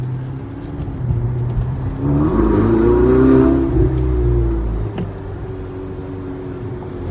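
A Ferrari 488 Spider accelerates away from a red light near the dealership, its engine rising in a smooth climbing whine, swelling loudly midway, then easing back to a steady drone.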